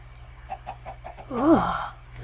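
Minecraft chickens cluck in short, evenly spaced bursts, followed by a louder, warbling squawk; the sounds are close and moderately loud over steady low background music.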